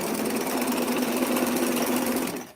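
A sewing machine stitches a T-shirt in one steady, continuous run of fast mechanical buzzing, close and fairly loud, then cuts off abruptly at the end.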